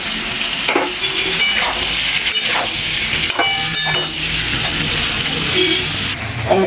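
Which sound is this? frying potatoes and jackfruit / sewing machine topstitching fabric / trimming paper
frying potatoes and jackfruit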